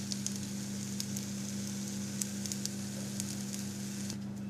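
Food frying in a pan until browned on all sides, a steady soft sizzle with scattered little pops and crackles over a low hum, no talk.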